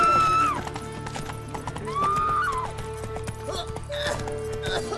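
Roach the horse in The Witcher 3 whinnies in a rising, wavering call, then gives a second whinny, while steady clip-clop hooves run beneath and a voice speaks over them.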